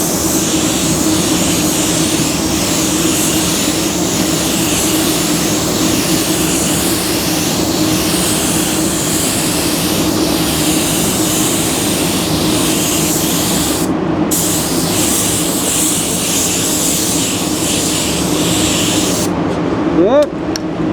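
A spray gun lays a coat of pearl paint onto a car panel during a smart repair, producing a loud, steady hiss that runs unbroken for about twenty seconds.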